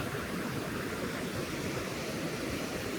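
A waterfall on the Southern Bug river roars steadily, a continuous broadband rush of falling water with no talking over it.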